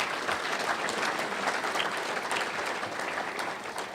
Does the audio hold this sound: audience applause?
yes